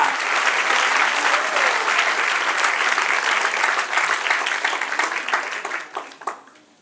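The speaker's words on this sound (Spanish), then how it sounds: "Dale un aplauso al que reina." Loud church congregation applause during a Spanish-language sermon, dense and sustained for several seconds before thinning out and fading near the end.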